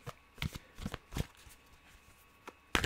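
Tarot cards are shuffled up close, producing a quick series of crisp riffles and slaps with brief pauses and a final louder snap, with no voice.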